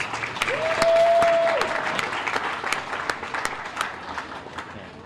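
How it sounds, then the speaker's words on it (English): An audience at a community awards ceremony claps for neighborhood council nominees, a brisk round of applause that swells early and then thins to scattered, sharp individual claps, with a brief tone sounding over it. "Give them a round of applause."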